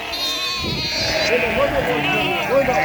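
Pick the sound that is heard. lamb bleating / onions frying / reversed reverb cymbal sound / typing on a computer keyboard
lamb bleating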